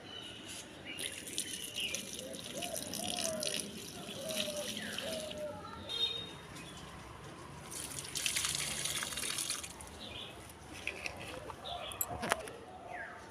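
Water pours and splashes onto potted plants on a rooftop, an uneven, moderately near gush and trickle with dripping, with outdoor background sound throughout and a sharp knock near the end.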